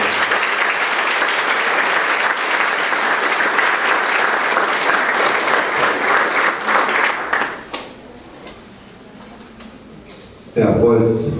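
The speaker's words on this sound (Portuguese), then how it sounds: "eu peço a todos uma salva de, uma salva de palmas" Loud, dense applause from the audience at a solemn municipal ceremony honoring teachers fills the room for about seven seconds, fades to quiet room sound, then a brief burst of noise returns at the end.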